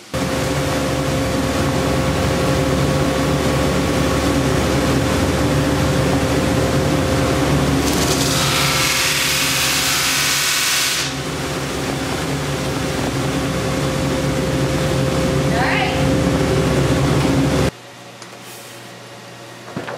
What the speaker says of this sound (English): we're going to sand the back flat on the belt sander